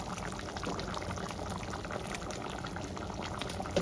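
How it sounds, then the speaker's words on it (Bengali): Egg curry gravy with potatoes boiling in a pot makes a continuous close bubbling and gurgling, fairly soft and steady throughout, with no voices. "ঝোলটা টকবক করে ফুটে গেছে"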